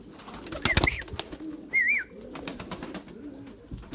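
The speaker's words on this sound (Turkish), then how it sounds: "Ya bir tane de kuş var. Acayip bir şey ya." Purebred Erzurum white breeding pigeons coo in a loft, two or three rolling calls close by amid wing flutters and light shuffling.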